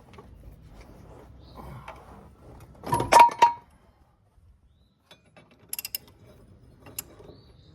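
A ratchet wrench works a bolt loose on a lawnmower blade, giving a short burst of loud clicking and grinding near the middle, then a few faint ratchet ticks afterward, with quiet handling noise between.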